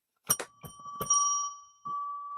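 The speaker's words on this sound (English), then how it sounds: "Ring the bell." A small bell rung several times in quick strikes, each leaving a clear sustained ring, close and bright with no voices.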